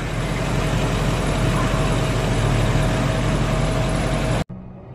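A car engine purrs in a smooth, steady drone for several seconds, close and fairly loud, then cuts off abruptly near the end with no talking.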